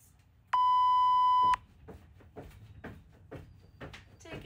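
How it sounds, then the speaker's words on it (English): A workout interval timer sounds one loud, sustained electronic beep lasting about a second at the start of a set of jumping jacks, followed by quieter soft thuds and shuffling. "I'm going to put the timer on."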